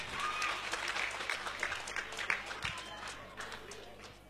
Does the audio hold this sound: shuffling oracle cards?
no